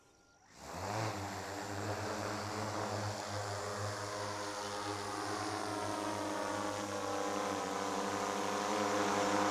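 A quadcopter drone, flown through a buddy RC trainer transmitter setup, arms and lifts off: after a brief quiet start its propellers spin up into a loud, steady, close whine with layered motor tones that hold to the end.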